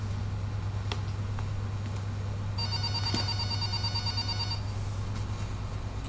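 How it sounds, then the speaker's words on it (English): An electronic telephone rings with a steady tonal trill for a couple of seconds inside a Backrooms horror video game, over a constant low droning hum. "and then the phone starts ringing"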